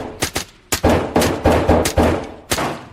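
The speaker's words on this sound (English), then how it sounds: "Gunfire erupted." Gunfire erupts during a Navy SEAL raid on the Bin Laden compound: loud, close shots, first a few single cracks and then a rapid run of heavy bursts with a final shot.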